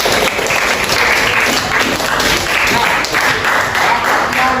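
A chemistry class in an Indonesian classroom claps together, a loud, close, continuous burst of many hands held steady throughout.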